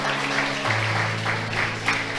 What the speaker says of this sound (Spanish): Vamos a darle un aplauso a nuestro Señor Jesucristo